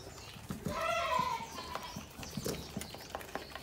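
A doe goat in heat snorts and vocalizes near the listener, with a drawn-out bleating call followed by a string of short, sharp snorting bursts.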